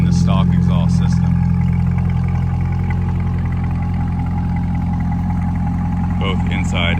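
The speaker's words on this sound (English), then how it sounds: "this sounds 10 times better and much louder than the stock exhaust system" A 2024 Chevrolet Corvette E-Ray C8 fitted with an AWE Tuning track exhaust idles with a steady, loud, deep rumble that holds throughout, while people talk over it.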